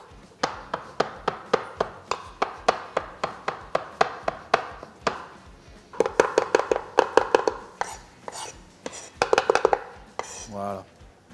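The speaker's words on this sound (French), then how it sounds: "je vais pouvoir hacher mes blancs" Knife chopping hard-boiled egg whites on a board, a fast steady run of close, crisp taps that pauses briefly and then resumes in quicker bursts, with no talking.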